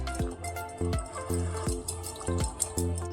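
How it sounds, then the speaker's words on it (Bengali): Water trickles in small repeated drips and splashes into mustard paste being thinned for a mango-based prawn curry, a liquid dripping rhythm recurring about every half second, close and fairly clear. "একটু জল দিচ্ছি,"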